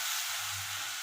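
Bitter gourd (karela) pieces frying in oil with salt give a steady, close hiss with a brief stirring scrape near the end, with no voices.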